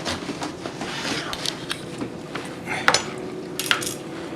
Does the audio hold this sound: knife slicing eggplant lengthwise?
yes